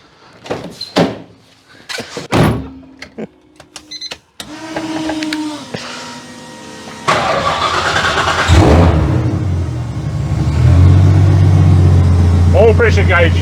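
A warm Nissan RB engine starts and runs, then revs loudly and steadily up close in the second half, with people talking over the opening moments.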